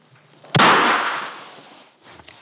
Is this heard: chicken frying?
no